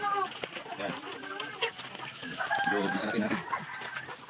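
A hen clucks in short, repeated calls near a coconut-leaf nest on a farm, with other fowl sounds and a voice speaking alongside. The calls are moderately close and mixed under the talk.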